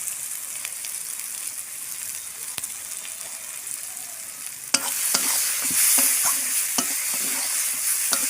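Spice paste with ginger, garlic and turmeric stirred and fried in a pan for a jackfruit curry, steady close sizzle becoming louder midway with repeated scraping strokes of a spoon, no talking.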